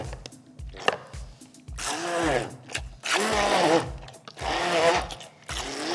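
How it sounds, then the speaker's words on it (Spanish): A handheld blender whirs in three loud bursts of a few seconds each, separated by short pauses with knocking and clatter in between. "Y vamos con la mini pimer o con una licuadora"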